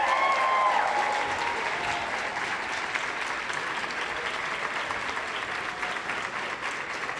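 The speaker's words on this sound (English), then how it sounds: "we will still give them a wild round of applause" Sustained audience applause fills a hall at a university awards ceremony, steady and fairly distant, with a faint tone fading in the first second.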